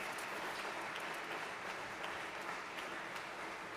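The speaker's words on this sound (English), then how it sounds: "give them a big round of applause" Sustained applause from an event audience, a steady dense wash of clapping at moderate level throughout, with no talk over it.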